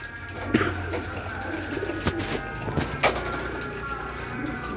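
Pigeons cooing among a loft of some fifty birds, a steady low murmur of calls with a few sharper knocks and rustles, people talking nearby.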